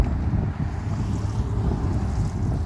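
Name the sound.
wind blowing outdoors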